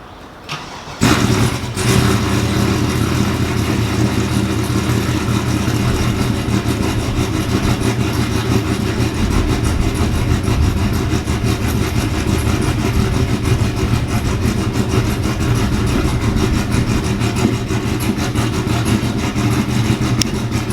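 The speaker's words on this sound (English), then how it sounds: "right now I'm gonna turn on the white truck in the back" A white Chevrolet C10 pickup truck cranks to life and settles into a loud, steady, rumbling idle close by, with a deep, even engine drone and no talking.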